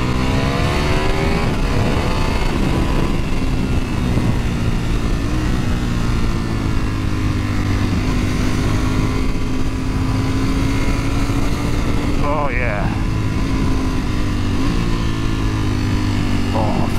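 Ducati Panigale V4S motorcycle being ridden on a twisty road, a loud continuous engine drone with rising and falling gear tones under heavy wind noise and a rider's voice.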